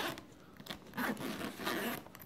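The zipper on a homemade ice fishing sonar bag is pulled open up close, giving a couple of raspy, scraping zips that last about two seconds.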